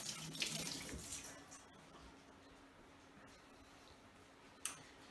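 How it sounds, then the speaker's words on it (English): Water runs faintly from a tap while hands are washed at a sink during quail cleaning, a soft steady trickle with a few small knocks and splashes. "Wash my hand."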